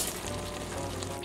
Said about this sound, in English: we'll just let this simmer for about 10 minutes